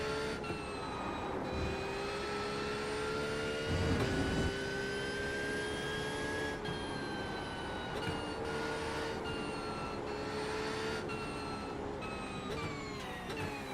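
Mercedes-AMG GT3 race car with a 6.2 litre naturally aspirated engine in iRacing at Snetterton, a steady sustained engine drone with faint tonal harmonics and small rises and dips, heard alone without voices.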